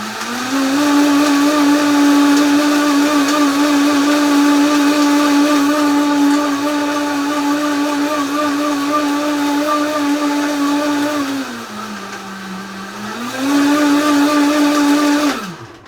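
A blender runs loud and close, crushing frozen, rock-hard malted milk balls for a milkshake. A steady high whine and grinding rattle hold for about eleven seconds, then the motor dips lower before climbing back up and stopping abruptly.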